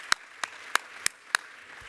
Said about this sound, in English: Love for you all to join me in just another round of applause for each of the startups.